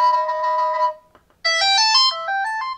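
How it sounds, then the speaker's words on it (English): A loud melodic ringtone plays from the loudspeaker of a Doogee S100 rugged phone, a bright synthetic tune of rising and falling notes with a short pause partway through, close and clear. "loud ringtone"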